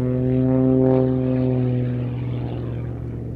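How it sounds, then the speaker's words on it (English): Propeller aerobatic aircraft climbing in knife edge flight with snap rolls at an airshow, a loud droning engine and prop buzz with strong steady harmonics that swell and then slowly fade, no talking. "pulling onto the knife edge for a knife edge climb with 2 snap rolls"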